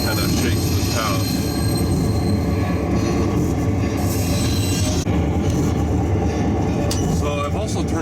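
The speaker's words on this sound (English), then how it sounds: "that and the emergency brake really kind of shakes this house" DCC model locomotive sound effect playing at loud volume, a dense roaring rumble of train wheels and machinery with squeals and brake hiss, steady throughout.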